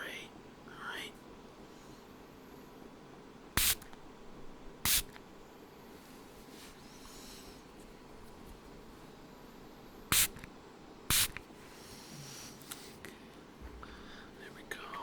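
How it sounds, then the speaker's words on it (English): Quick spray bottle bursts, four short sharp hissing squirts in two pairs, close against a quiet background with soft whispered talk around them. "So, we're just going to do a quick spray, alright?"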